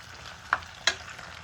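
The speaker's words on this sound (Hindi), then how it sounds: "ये देखिए, तो इसको फ्राई कर लेंगे" Boiled liver pieces fry in a pan over low heat, a faint steady sizzle broken by two sharp scrapes of the spoon as they are stirred, quiet and close with no talking.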